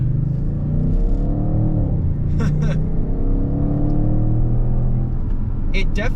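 An Audi RS7 with a 591 hp V8 accelerates in RS mode, a deep engine rumble rising and falling through gear changes, heard from inside the car.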